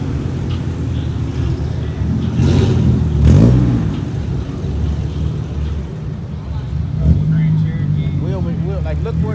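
A customized car engine revving at a busy car meet, loud surging roars with a sharp rev peak in the middle, over crowd noise and people talking nearby.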